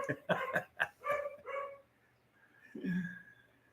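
A house dog in the Philippines barks at a water delivery man, a burst of several rapid loud barks followed by a pause and a lower gruff bark, fairly close by.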